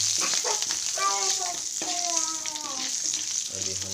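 Peas, paneer and pre-boiled potato frying in oil with spices, a loud close sizzle throughout while someone talks over it.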